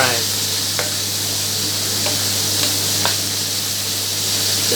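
Bacon sizzles steadily in a pan for pasta carbonara, a loud, continuous bright crackle close up, with a few faint clicks of utensils and a low steady hum underneath.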